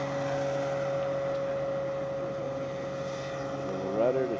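E-flite Carbon-Z Cessna 150 RC airplane, a 2.1 m electric model, flying overhead with a steady motor whine holding a constant pitch, with a person's voice briefly audible near the end.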